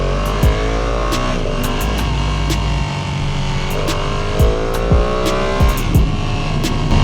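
A Ducati motorcycle engine roaring steadily while riding, loud and close, with rising and falling revs and gear changes over continuous wind and road noise.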